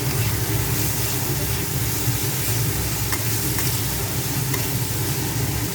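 Leftover rice frying in a pan with salt and turmeric, giving a loud, continuous dense sizzle with light stirring throughout.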